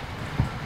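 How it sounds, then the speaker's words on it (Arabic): Steady rain falls in El Salvador as a dense, even hiss with a brief low thump partway through, and no voices. "والله جانا مطر يا جماعة"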